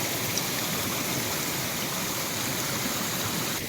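Swollen creek behind a house in the North Carolina mountains, running high after Hurricane Florence flooding, gives off a steady, dense rushing wash of water that holds even throughout without talk.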